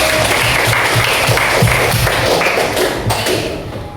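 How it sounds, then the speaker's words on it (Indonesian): Classroom applause for a student group in a Hindu religious education lesson, a brisk burst of many hands clapping with sharp taps, fading toward the end. "Oke, tepuk tangan dulu buat kelompok satu."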